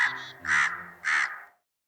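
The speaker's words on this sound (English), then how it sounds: "crows are named after their call" A crow gives three harsh, evenly spaced caws, close and loud, with no other sound in between.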